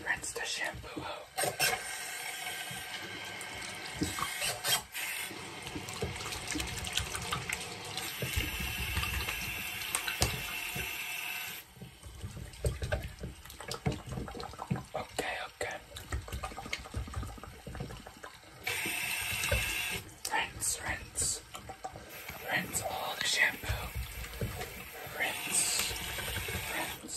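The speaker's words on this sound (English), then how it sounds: "Rinse the shampoo out." Water poured over hair to rinse out shampoo during a hair wash, a soft splashing trickle that comes and goes in uneven bursts, close and quiet, with occasional soft voices underneath.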